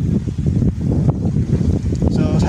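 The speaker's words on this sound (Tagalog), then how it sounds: "Lakas ng hangin." Strong gusty typhoon wind buffeting the microphone in low rumbling bursts, continuous and close, with no one speaking.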